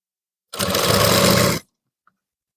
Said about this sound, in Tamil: இந்த மாதிரி நம்ம கழுத்து போர்ஷன் வந்து ஸ்டிச் பண்ணும்போது